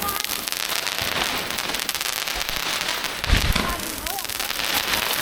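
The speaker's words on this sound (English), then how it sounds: "shooting fireworks." Chinese New Year fireworks go off across a street, a steady crackle of firecrackers with scattered pops and one louder burst near the middle, heard at moderate distance.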